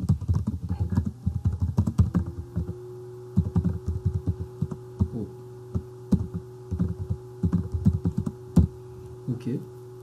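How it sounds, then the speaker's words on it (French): Someone types on a computer keyboard while working in Mathcad, producing close, uneven bursts of clicky keystrokes over a steady electrical hum, with short pauses between runs. "Une page vierge pour commencer, dans laquelle nous allons pouvoir taper du texte."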